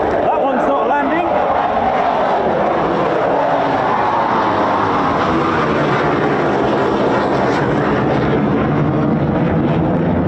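A fighter jet, an F-15 or F-35, roars past at RAF Lakenheath with the 48th Fighter Wing, a broad, loud continuous engine rush sustained throughout and shifting slightly in pitch as it flies by, with a voice faintly underneath.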